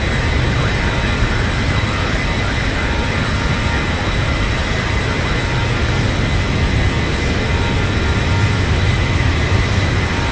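Steady jet engine roar from an airliner in X-Plane 12 over Los Angeles, a continuous broadband rumble with a faint high whine, holding constant and loud for the full stretch without a clear rise or fade.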